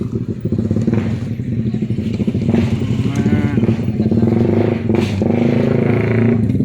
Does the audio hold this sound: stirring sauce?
no